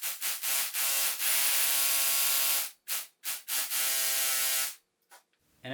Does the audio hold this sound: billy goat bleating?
no